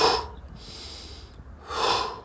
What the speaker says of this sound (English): So the breath is a little faster with these more vigorous movements.